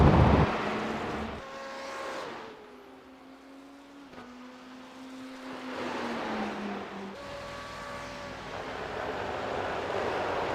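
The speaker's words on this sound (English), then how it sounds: "Catching up with Dave Fitzgerald, currently in fourth in his Corvette" A Corvette race car in Gulf livery laps Road Atlanta during a race. The engine note climbs and falls through gear changes, fades quieter mid-clip and then swells again as the car draws near, with no speech.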